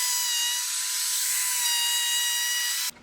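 A router cuts a bevel along a wooden piece for a corner clamp, giving a loud high-pitched whine with a grinding cut that holds steady for about three seconds and stops abruptly.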